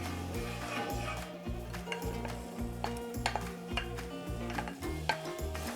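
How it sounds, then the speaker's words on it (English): Sliced onions sizzling in a hot pan of olive oil and butter over high heat, a close, steady crackle broken by regular rhythmic stirring or tossing clatter. "we'll start them at a high heat just to get them sizzling"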